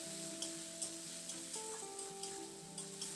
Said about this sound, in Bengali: এবার সামান্য একটু জল দিয়ে এই মশলাটাকে খুব ভালো করে এটাকে কষিয়ে নেব।